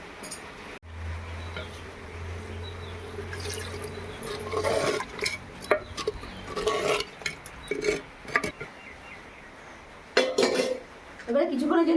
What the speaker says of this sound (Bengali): এবারে সামান্য জল দিব।